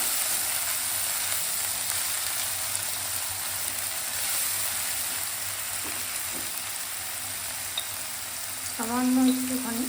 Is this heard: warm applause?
no